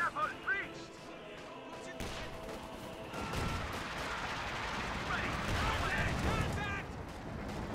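In Company of Heroes 2, a Panzer IV tank cannon booms amid repeated gunfire and explosions across a steady battlefield din, with a voice talking over the combat.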